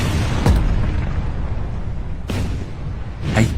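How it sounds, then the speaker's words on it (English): A Japanese Val dive bomber rams the aircraft carrier USS Hornet in a World War II air battle, heard as a dramatized series of heavy booms and bursts over a constant rumble, loud and close. "A catastrophic explosion rocks the carrier, setting fires all over the deck and taking out multiple sailors."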